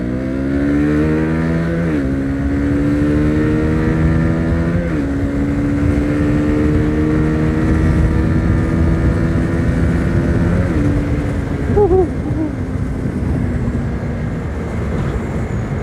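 A Honda CB150R naked motorcycle engine revs up steadily with rising pitch, shifting gears about three times, loud and close with a continuous rumbling drone and no talking.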